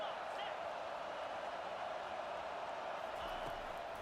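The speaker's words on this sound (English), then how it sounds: "This crowd knows this defense needs them right now." Football stadium crowd at the Auburn–Alabama Iron Bowl cheers for the defense, a steady distant roar heard faintly under a commentator's voice.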